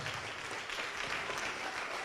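Church congregation applauding in praise during a worship service, a steady wash of many hands clapping at moderate distance, even and unbroken for the whole stretch.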